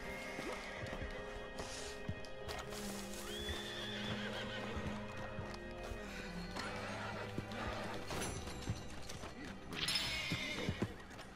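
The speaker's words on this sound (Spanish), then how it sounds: "aquí hay un caballo, no sé si será este" A horse in the video game Red Dead Online gives a loud neigh over steady clip-clopping hooves, set in a busy outdoor soundscape with a brief crash and a sharper burst near the end.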